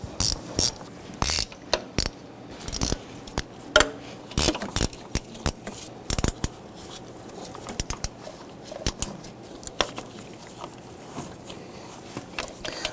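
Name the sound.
wrench loosening intake manifold bolts on Jeep Wrangler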